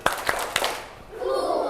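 A group of children claps hands in a classroom, three crisp claps in a row, then children's voices rise after them.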